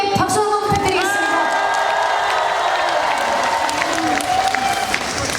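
A festival crowd at the Gangjin Celadon Festival applauds and cheers for dancers taking the stage, with whoops and shouts rising over continuous clapping while stage music tones hold underneath.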